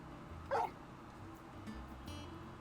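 A dog in the video game Final Fantasy 16 gives one short yip or bark, then faint whimpering, over a low steady game ambience.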